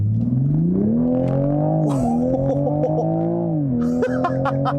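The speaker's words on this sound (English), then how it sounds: "Oh, listen to that straight 6." A 2020 Toyota Supra's B58 straight-six revs hard and climbs steadily as the car accelerates, close and loud, with a brief dip at each gear change and a quick upshift near the end.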